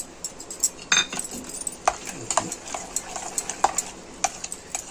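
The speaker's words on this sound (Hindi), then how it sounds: "अब मैं इसमें मिक्स कर रही हूँ" Jaggery kheer for the Chhath Kharna prasad being stirred in a pot, with a spoon scraping and clinking against the metal in quick, irregular strokes, close and fairly loud, under a faint low hiss.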